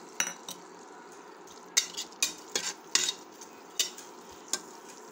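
Tomato pieces stirred into vegetables frying in a pan for veg biryani: a faint sizzle under sharp, irregular scrapes and clinks of a spoon against the pan.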